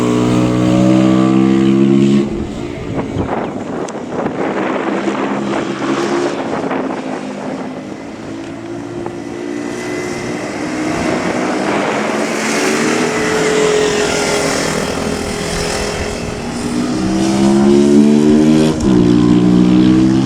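Motorcycles racing on a track at Suvarnabhumi during an MSP race day in Bangkok, with steady loud engine roar and rising and falling revs as bikes pass, plus wind buffeting on the microphone.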